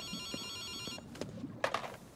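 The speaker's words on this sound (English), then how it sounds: "I'll answer the phone and see what happens." An electronic telephone rings in the Ghostwire Tokyo video game, a steady warbling tone that stops after about a second, followed by clicks and a brief bright burst of game sound.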